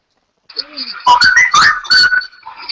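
A loud, close whistle sounds in short wavering bursts, rising and falling in pitch against a quiet background after a faint opening tone.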